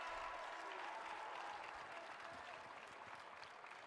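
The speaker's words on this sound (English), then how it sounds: "a hearty applause from the bench and fans alike" Bench players and fans clap warmly at a college basketball game in a gym, a sustained wash of applause that slowly fades over a few seconds, slightly distant.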